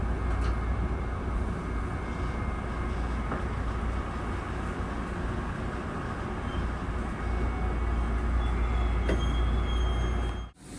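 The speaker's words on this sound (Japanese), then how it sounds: "駅の手前では安全のために減速します。" A Tobu Daishi Line train braking as it nears Daishimae-bound Ōshima station, a steady close rumble of wheels on rail with a faint squeal and rattle, continuous throughout before a sudden cut near the end.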